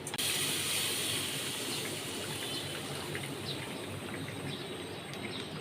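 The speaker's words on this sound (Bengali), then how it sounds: "এবার দুধের প্যাকেটটা সম্পূর্ণ ঢেলে দেবো" Milk pours steadily into a frying pan, a continuous hissing splash lasting several seconds, close and fairly loud.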